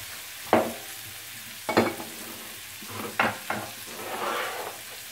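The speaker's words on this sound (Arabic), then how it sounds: "غندير شويه الروبيان خلينا غادي شويه ديال التحميره" Shrimp frying in a pan, with a steady soft sizzle broken by several sharp scraping stirs at irregular intervals, close up and with no talking.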